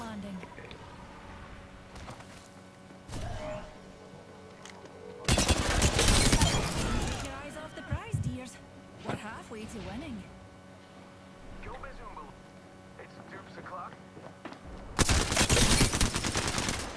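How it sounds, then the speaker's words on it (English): Loud bursts of automatic gunfire erupt in a shooter video game, with two heavy volleys and scattered shots between them, while a player talks excitedly over the action. "what are you shooting at?"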